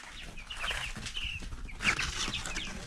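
Chickens cluck and call in a farm setting, a steady cluster of overlapping bird calls close by, with a couple of louder squawks near the middle.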